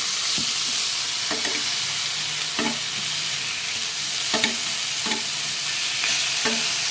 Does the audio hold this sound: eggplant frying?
yes